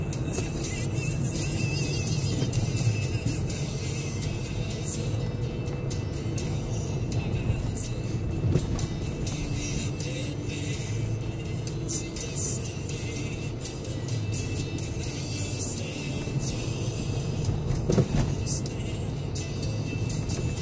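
A car driving in the inside lane of a motorway in Scotland gives a continuous low road rumble and tyre roar at steady speed, with no talk over it.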